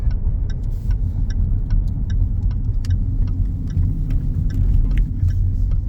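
A 2021 Jaguar F-Type R-Dynamic rolls along a road, its engine a steady low rumble with faint ticking, heard from inside the cabin without talk.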